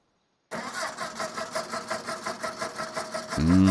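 Engine in the Farming Simulator 2025 video game cranking rhythmically without catching properly, a steady pulsing churn after a moment of silence, ending in a louder low rumble, no talking.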